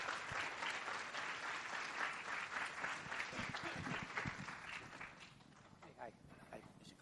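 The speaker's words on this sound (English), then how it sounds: "Please give him applause." A conference audience applauds steadily, the dense clapping gradually thinning out toward the end.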